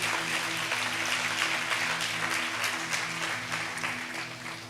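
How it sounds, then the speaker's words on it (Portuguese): Congregation at a Portuguese-language Christian sermon breaking into loud, sustained applause, many hands clapping densely for several seconds over a low held musical drone. "Pode aplaudir ao nome de Jesus"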